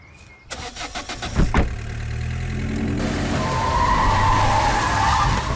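A car in an action film scene starts up, its engine revving loudly before tires skid and screech as it pulls away, with no talk.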